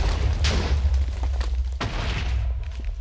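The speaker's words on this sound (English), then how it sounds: "this should be a decent sized explosion that I'm very excited for" A Minecraft explosion during a demolition, heard as a loud, sustained rumbling roar with sharp blasts near the start and again around the middle, slowly thinning out toward the end.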